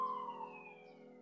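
A distant emergency siren drifts over a New York street, its high wailing tone sliding slowly downward and fading over a little more than a second, faint and alone with no talk.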